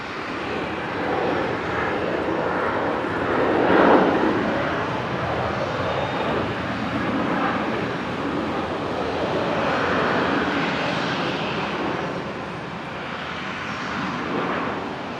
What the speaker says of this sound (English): Qantas 622 just about to touch down. 73 in from Melbourne.